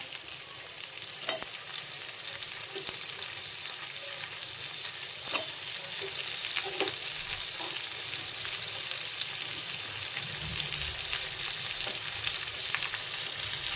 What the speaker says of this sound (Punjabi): ਤੇ ਨਾਲ ਹੀ ਆਪਾਂ ਇੱਥੇ ਪਾ ਲਾਂਗੇ ਜੀ ਟਮਾਟਰ ਟਮਾਟਰ ਵੀ ਆਪਾਂ ਇੱਕ ਤਰੀਕੇ ਨਾਲ ਬਰੀਕ ਕੱਟਿਆ ਹੋਇਆ ਸੀਗਾ